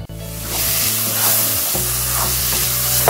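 Okra bhindi masala frying in a pan with chopped tomatoes just added, giving a loud, steady sizzle throughout while a spoon stirs it, close by and with no voices.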